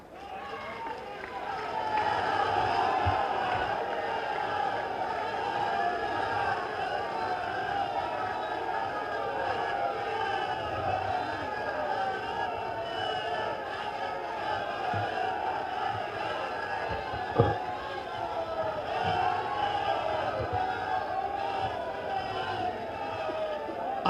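A large crowd at a government projects event with the Uttar Pradesh Chief Minister raises a sustained, roaring wash of cheering and noise that stays steady for over twenty seconds, with a few sharper bursts standing out.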